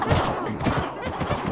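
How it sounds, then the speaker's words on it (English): Explosions in Minecraft make a dense, loud burst of crackling blasts that roll on continuously, up close with no clear gaps and no talk. "There's just like a massive explosion every so often."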